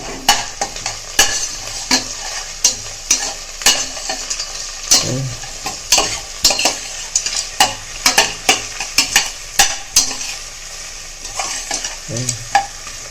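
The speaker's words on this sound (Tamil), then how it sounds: "ஒரு தக்காளி கட் பண்ணி வச்சுருக்கிறத போட்டாச்சு போட்டு அதை ஒரு வதக்கு வதக்கு" Chopped tomato sautés in hot oil in a pan for a vegetable dish, with a soft continuous sizzle broken by frequent sharp clicks and scrapes of a spoon stirring against the pan, near and fairly loud, without speech.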